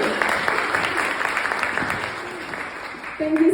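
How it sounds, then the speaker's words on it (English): An audience at a talk claps for a speaker, a continuous wash of applause that holds steady and fades slightly toward the end, with a brief tonal sound near the close. "Please give her a hand of applause."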